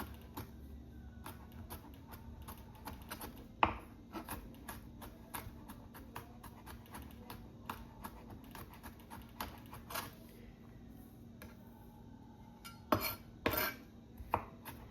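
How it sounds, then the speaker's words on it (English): Knife chopping and dicing seasoning vegetables on a board for Jamaican tin mackerel, a steady run of light, fairly close taps with a few sharper knocks near the end, and no talking over them. "I'm going to go in and chop it up. I'm just dice it up."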